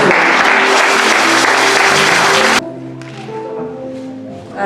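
Loud applause from a women's church gathering audience fills the first two and a half seconds, then cuts off abruptly, leaving quieter room sound with faint tonal music underneath.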